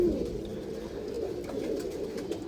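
Domestic pigeons coo softly and steadily, their low throaty calls rolling on and on at close range in a quiet pigeon-keeping setting.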